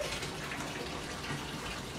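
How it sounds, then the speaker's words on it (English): A bathtub fills with hot water from the tap in a steady, close, fairly loud rush that runs unbroken throughout, with no talking. "we currently are filling the tub with hot ass water"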